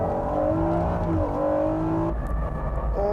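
A Honda Integra Type R sports car races against cars such as the NSX and GT-R, its engine holding a loud, steady high-rev drone from inside the car, with a pitch drop around a gear change partway through.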